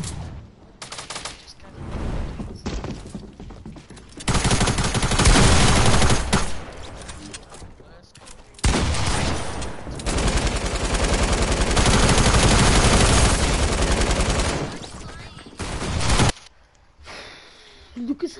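Rapid, spammy automatic gunfire in a video game, loud dense bursts lasting several seconds each and separated by brief pauses, with voices talking in the background.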